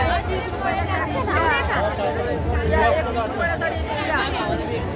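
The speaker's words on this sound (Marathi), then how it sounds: "इथे एवढी गर्दी कसली आहे पाहूया।" A dense crowd of voices fills a busy stall at the Dombivli Utsav festival, steady overlapping talk and chatter close by with no single voice standing out.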